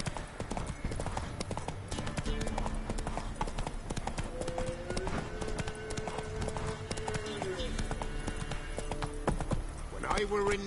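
Horse hooves clip-clop at a steady galloping rhythm in The Witcher 3, with occasional whinnies and a voice speaking over the continuous hoofbeats.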